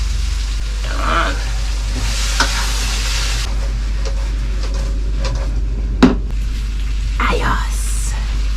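Tomatoes and meat sautéing in a pan for ginisang monggo, a Filipino mung bean stew, with steady close sizzling and occasional stirring scrapes, plus a sharp clink near the end.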